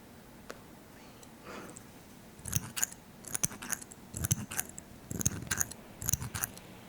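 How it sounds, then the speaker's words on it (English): Small herb shears snip in close, crisp bursts, a run of quick metallic cuts in clusters against a quiet background. "how could I not use my little herb shears for this?"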